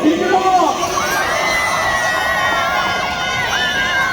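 A room full of students at a large convention-center event in Ilsan shouts, whoops and cheers loudly. High rising yells and wavering cries overlap continuously in a lively roar.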